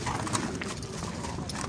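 A horse at the Sokuluk livestock market in Kyrgyzstan clip-clops with quick hoofbeats on the ground, close and clear, amid crowd noise and some people talking.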